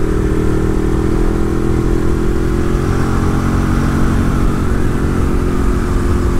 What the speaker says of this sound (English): This 1098 motor really revs out.